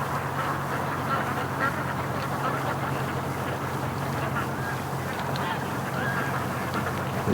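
Muscovy ducks and other ducks call with scattered quacks and honks at a lake in the rain, over a steady wash of rainfall and water, with a low hum underneath.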